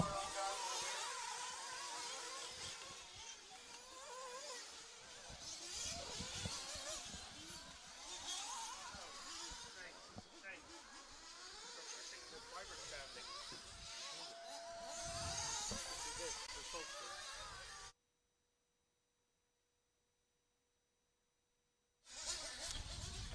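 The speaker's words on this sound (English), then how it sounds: "last few cars coming off the track now into the pit lane" Radio-controlled race cars at an RCGP Round 5 qualifying race in Italy buzz loudly and continuously as the last few come off the track into the pit lane, then the sound cuts to silence for a few seconds before resuming.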